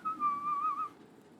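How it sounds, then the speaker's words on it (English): Casual, carefree whistling of a short wavering tune, clear and close, lasting about a second before trailing off. "Casual whistling."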